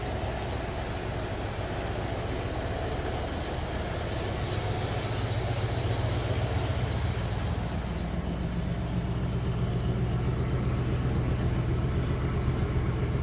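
Two 1972 Lincoln 460 V8 engines idling together, a steady low rumble that stays constant and fairly close, with no voices.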